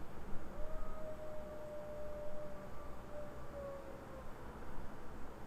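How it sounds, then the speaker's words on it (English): A high-pitched animal howl in the Tsukihime visual novel: one thin, wavering tone drawn out for several seconds, faint and far off beneath a dense, steady wash of background noise. "The howl of an animal. It sounds too high to be a dog."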